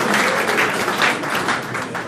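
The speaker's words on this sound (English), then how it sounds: "give him a round of applause" Steady audience applause at a launch party for The Bunker at a digital startup incubator, a dense wash of many hands clapping throughout.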